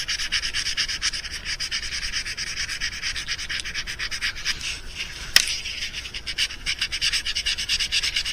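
A mouse-shaped fishing lure is rubbed with 1000-grit sandpaper in quick, even back-and-forth strokes, a soft close scratching with one sharp tick midway.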